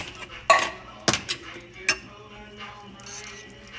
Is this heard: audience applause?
no